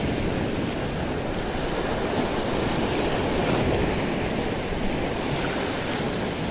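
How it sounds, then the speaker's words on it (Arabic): Sea waves roll against the shore at a fishing spot, a loud, continuous wash of surf with some wind noise, steady and close with no talking. "استمتعوا معي بهيك منظر، بس صوت البحر"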